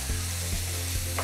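Chopped onions sizzle steadily in a hot pan for pav bhaji, with a few soft scrapes of a spoon stirring them, loud and close with no talking.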